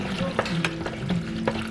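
Pasta being stirred in a pan of sauce gives soft, moist scraping and sizzling, with a few sharper clicks of the utensil against the pan over a steady low hum.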